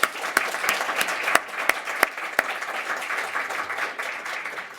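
An auditorium audience applauds with dense, steady clapping and several sharp individual claps standing out, fading slightly toward the end.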